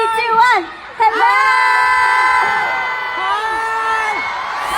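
A New Zealand crowd at a family-day show cheers, whoops and calls out greetings in loud, sustained shouts, with voices overlapping and one brief dip before the noise swells again.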